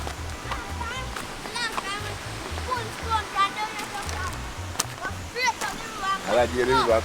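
River water rushing steadily at a bend of a riverside spot, a constant close wash with splashes, while people talk and children chatter over it.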